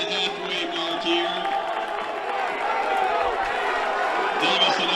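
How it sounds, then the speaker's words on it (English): Crowd noise at a track and field race fills the background with a sustained roar and scattered whoops, steady and fairly loud, while a commentator talks over it. "Crowd on their feet, and they're loving every second"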